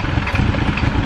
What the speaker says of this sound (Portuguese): Olha o barulho que esse motor faz, cara.